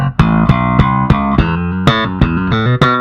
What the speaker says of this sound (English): Let's set the pickups to the middle position where it's using both of them and add some of that bass back in.